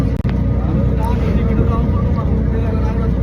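An auto-rickshaw engine rumbles steadily and close from inside the moving vehicle, a continuous low drone with faint voices beneath it.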